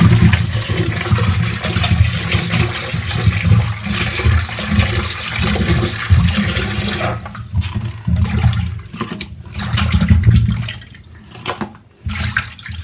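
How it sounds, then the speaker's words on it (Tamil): Running tap water rinsing scaled, cleaned sardines (mathi fish), a steady close splashing stream that breaks into uneven gushes and brief pauses toward the end, with no talking. "இப்போ தண்ணி திறந்துட்டுருக்கேன். நல்லா கழுவி எடுத்துக்குவேன்."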